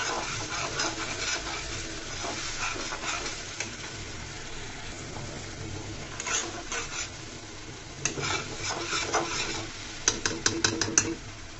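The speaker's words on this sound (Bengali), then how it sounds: "সব কিছু সুন্দর করে তেলের সাথে আমি মিশিয়ে নিচ্ছি।" Raw jujube pickle ingredients and purée get stirred into hot oil, producing a low continuous sizzle with scraping of a spoon against the pan that grows busier and clattery near the end, heard alone.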